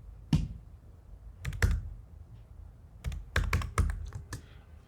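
A code typed on a computer keyboard: a few quiet, close key clicks, a pause, then a quick cluster of keystrokes, with no talking.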